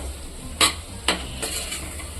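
Salt being stirred into tomato chutney in a pan, three quick scraping strokes of a spoon against the pan over a low background sizzle, close and fairly loud.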